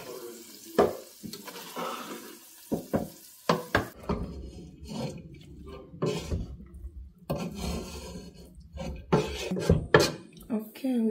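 Rice being stirred with soy sauce in a pot, spoon scraping and knocking against the metal in irregular bursts, close and moderately loud, with a brief bit of speech among the clatter.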